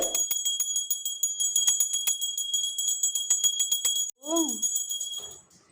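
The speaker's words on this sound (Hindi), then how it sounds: "अब घंटी ये बजती रहेगी।" A small metal hand bell rung over and over in a quick, steady jingling rhythm, bright and close, briefly pausing near the end while a faint voice speaks.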